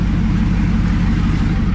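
An LS-swapped twin-turbo Mustang engine idles steadily, a loud, close, even low rumble with a constant throb and no revving or talk over it.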